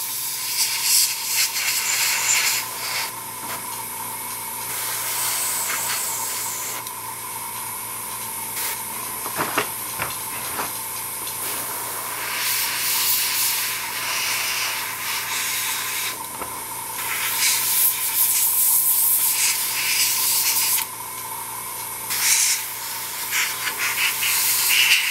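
Aerosol primer sprayed onto a 1/48 Tamiya model kit makes a steady hiss that runs nearly the whole time, with slight swells and a few brief dips between passes.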